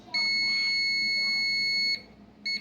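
A continuity tester buzzer sounds during board testing on a Samsung 55-inch LED TV, giving a steady, piercing electronic tone for nearly two seconds, then a brief second beep after a short gap, close and loud.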